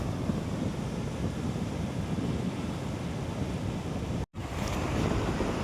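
Sea waves wash steadily against the shore in a loud, continuous broadband roar with a gusty wind rumble and a brief dropout near the end, and no voices.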